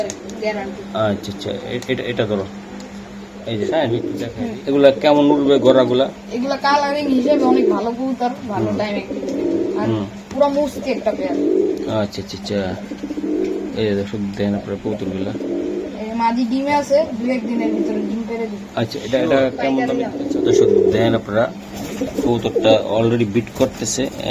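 Racer and high-flyer pigeons at a pigeon market coo in repeated low, throaty rolls close by, heard under ongoing talk from someone speaking throughout.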